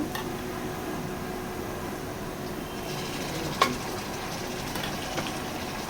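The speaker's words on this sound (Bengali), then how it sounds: "এখন আমি ভেজে নিচ্ছি, পেঁয়াজের সাথে এলাচ আর দারচিনিটা ভালোভাবে ভেজে নিচ্ছি।" Onions fry in oil with cardamom and cinnamon, a steady, even hiss with an occasional pop, heard close at moderate loudness.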